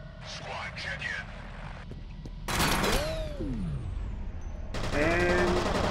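Gunfire from a weapon in the video game F.E.A.R. comes in loud bursts of rapid shots. The shots are mixed with in-game effects and tonal sweeps, and the firing grows denser toward the end.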